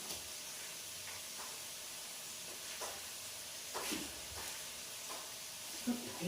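Spices hit fried potatoes in a pan with a soft, continuous sizzle, broken by occasional scraping stirs, all quiet and heard without talk.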